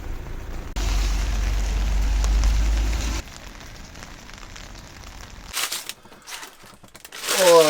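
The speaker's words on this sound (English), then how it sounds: "Molly, what do you think to the rain?" Steady rain patters and hisses on a surface around a campervan in Hawes, loud for a few seconds and then softer, ending with scattered clatters and a brief rustle.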